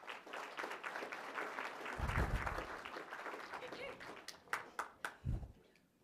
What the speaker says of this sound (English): would you please join me in a round of applause for Eric Silva